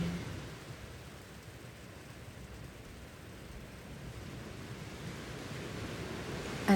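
Ocean waves on the Azores coast produce a steady, soft, broadband wash of surf, continuous and distant-sounding with no distinct breaks, heard alone without voices.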